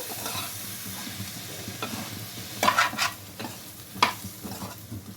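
A spoon scrapes and stirs beans curry with coriander and coconut in a pan over medium flame, soft sizzling underneath and a few sharper clinks of utensil against metal.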